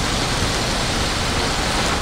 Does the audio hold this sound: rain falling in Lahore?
yes